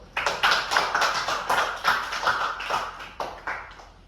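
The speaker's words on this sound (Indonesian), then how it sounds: "Tepuk tangan." Children in a classroom clap their hands together in a lively burst of rapid, uneven claps lasting about four seconds, fairly close and steady, with no talking.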